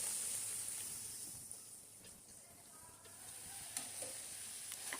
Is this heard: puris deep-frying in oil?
yes